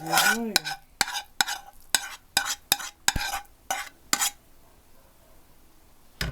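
A seasoned liver and potato filling for yeast-dough dumplings is stirred in a bowl or pan, with about a dozen wet, scraping strokes in an uneven rhythm, close up, then fading to quiet, with no talking.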